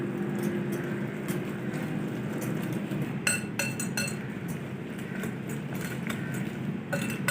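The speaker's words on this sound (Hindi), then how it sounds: "सारी चीज़ों को अच्छी तरह से मिक्स कर लेंगे।" Coriander, black pepper and salt are stirred together in a bowl, giving a run of light clinks and taps of a utensil against the dish over a quiet room hum, with no voices.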